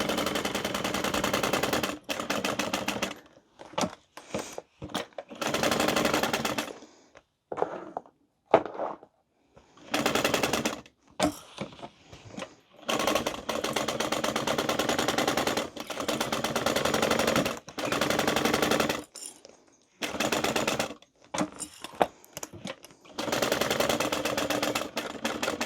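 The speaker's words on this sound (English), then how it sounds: "we're just going to go ahead and baste this on. So I'll up my stitch length just for this." Sewing machine basting a tote bag with a long stitch length: fast rhythmic mechanical stitching in repeated bursts of several seconds each, separated by short pauses, loud and close with no talk.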